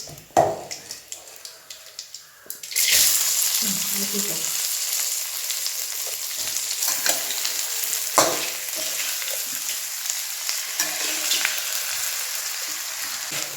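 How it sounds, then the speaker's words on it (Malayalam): Washed rice is tipped into hot ghee with fried biryani spices for chicken biryani, bursting into a loud, continuous sizzle after a few quiet scrapes, with stirring clatter on top. "നമ്മുടെ മസാലകളെല്ലാം നെയ്ക്കകത്ത് നന്നായിട്ടൊന്ന് ഫ്രൈ ആയപ്പോഴത്തേക്കും ചെറുതായിട്ടൊന്ന് മൂത്തപ്പോഴത്തേക്കും നമ്മൾ കഴുകി വൃത്തിയാക്കി വെള്ളം തോർത്ത് വെച്ചിരിക്കുന്ന അരി ആഡ് ചെയ്തു"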